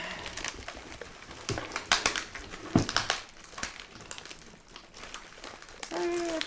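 A taped-up mail package of seed-starting supplies being opened, with irregular crinkling, crunching and tearing of plastic and tape. A few sharp rips stand out among the rustling, heard up close.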